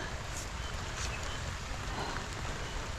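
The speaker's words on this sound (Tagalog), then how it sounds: "Kahit may ulan," Steady rain falls outdoors among overgrown plants, a dense continuous patter with scattered louder drops, close and without talk.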